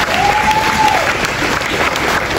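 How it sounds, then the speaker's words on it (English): An audience at a truck driving school event claps steadily for a speaker, loud and continuous throughout, with a brief faint tone sliding in near the start. "Give him a round of applause."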